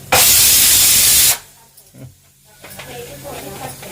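Hot oil boiling while bajji snacks fry, with a loud, steady sizzling hiss for about a second that then cuts to a much quieter bubbling crackle.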